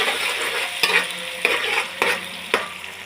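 Rice with saffron being stirred in a cooking pot, a spoon scraping in a few distinct strokes about half a second apart over a steady sizzling hiss, close and alone with no voices.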